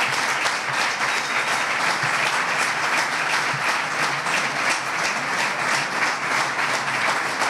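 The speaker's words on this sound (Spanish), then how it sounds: "un fuerte aplauso para Juan Juriel" Loud, sustained applause from a gala awards audience, dense continuous clapping close and even throughout, with a faint crowd murmur beneath.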